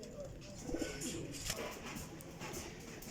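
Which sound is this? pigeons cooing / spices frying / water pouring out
pigeons cooing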